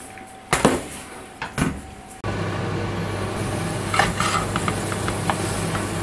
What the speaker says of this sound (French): je fais revenir les oignons à feu vif